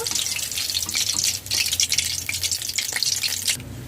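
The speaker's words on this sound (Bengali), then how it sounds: "লো টু মিডিয়াম ফ্লেমে পাঁচ মিনিট ভেজে নিয়েছি" Fish fillets fry in oil over a low-to-medium flame, giving a steady, close, hissing sizzle with small crackles and a brief dip partway through.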